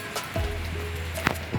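Rain falls steadily at night during an outdoor fishing trip, a dense continuous patter of drops on surfaces with a few sharper taps, close and even throughout.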